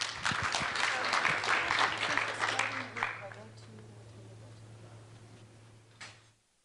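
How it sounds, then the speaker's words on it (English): Conference attendees at a media sales session give a speaker a round of applause, dense clapping for about three seconds that thins and fades into room noise with a steady low hum beneath. "Let's give her a round of applause, please."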